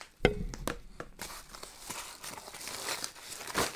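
Mail package sliced open across the top with an emerald blade: a sharp initial tear, then crinkling, scraping cardboard and plastic sounds, close and fairly quiet.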